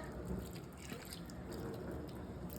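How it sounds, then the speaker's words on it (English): Half and half poured from a cup into a crock pot, a soft steady liquid trickle with light dripping that runs continuously for a few seconds at close range, with no talking. "I'm gonna go ahead and add half a cup of half and half right into the crock pot, just like so."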